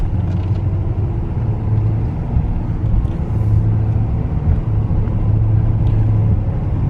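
A pickup truck with an L5P diesel and 10-speed automatic pulls up to highway speed, giving a continuous loud, low engine rumble with gradual rises and slight shifts in tone, heard from inside the cab with no talking.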